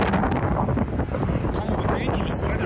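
Strong, gusty wind buffets the microphone on a street on Vasily Island in St. Petersburg, a continuous roaring rumble with a few brief higher hisses toward the end.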